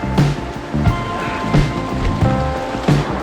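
Water swishes and splashes as someone wades along a rocky riverbed toward a waterfall near Garuva, with steady rushing flow and rhythmic sloshing steps roughly every second.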